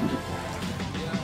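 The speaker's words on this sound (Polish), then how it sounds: "Niestety deszcz pada." Rain patters steadily on a street in Copenhagen, a soft, even wash of drops with a voice partly heard over it.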